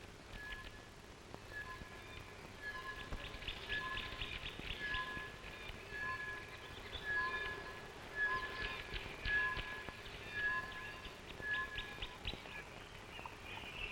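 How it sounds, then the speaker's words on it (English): A repeated metallic, bell-like call of an anvil bird in East Africa rings out in a steady series over a continuous buzzing chorus of insects or birds in the background. "that sound is not a locomotive bell, but an anvil bird"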